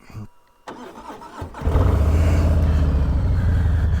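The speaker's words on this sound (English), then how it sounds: "So we're going to go ahead and start the bike up." A motorcycle engine cranks and catches at about 1.6 seconds, then settles into a loud, steady idle nearby. Before it fires there are a few brief mechanical clicks and shuffles, and nobody speaks.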